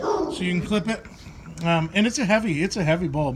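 An excited dog whimpers and gives a few yips and barks, mixed in under a man's continuous speech.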